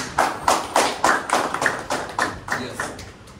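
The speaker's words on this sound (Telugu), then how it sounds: "ఒకసారి క్లాప్స్ కొట్టొచ్చా?" Roughly a dozen evenly spaced claps sound close and distinct at a steady rhythm, as listeners at a direct-selling business presentation clap together, each clap ringing briefly before the next and fading slightly toward the end.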